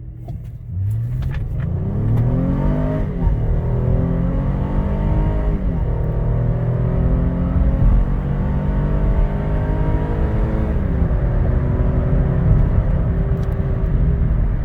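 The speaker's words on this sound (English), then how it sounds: "I'm going to brake torque this launch a little bit." An Acura MDX SUV's engine roars and revs hard up through several gear shifts, accelerating from a brake-torqued launch at full throttle close by.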